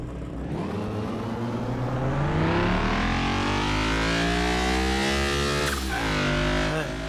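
Jaguar XJ220 engine in Car Mechanic Simulator 2021 revs hard through the gears, pitch climbing steadily then dropping sharply at a shift before rising again, a loud continuous close engine roar with no talk.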